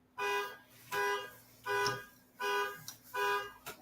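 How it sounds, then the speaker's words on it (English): A car alarm blares in the background, repeating five even honking blasts about once every 0.7 seconds at moderate distance, heard alone without voices. "somebody's car is getting stolen in the background."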